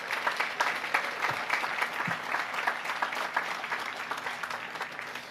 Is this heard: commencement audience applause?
yes